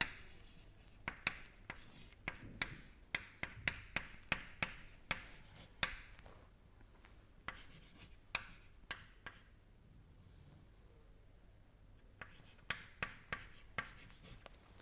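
Chalk or a marker taps and scrapes across a board in quick irregular strokes as numbers are written during an engineering lecture, close and fairly faint, with a short pause midway.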